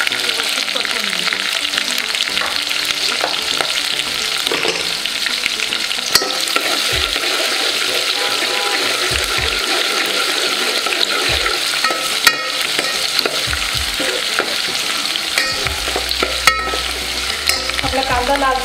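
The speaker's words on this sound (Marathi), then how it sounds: "कांदा टाकून व्यवस्थित परतून घेऊ।" Onions with bay leaf sautéed in a pan, a loud continuous sizzle under repeated scraping strokes of a spatula against the metal, close and steady throughout.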